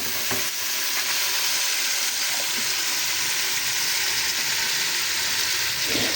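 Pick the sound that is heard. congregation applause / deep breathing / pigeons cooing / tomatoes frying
tomatoes frying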